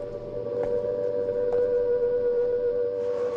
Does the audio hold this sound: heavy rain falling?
no